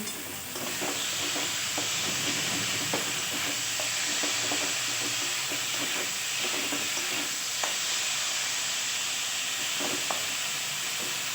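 Potatoes fry in a pan with spices and salt, a steady close sizzle running throughout with scattered scraping stirs and clinks, no voices.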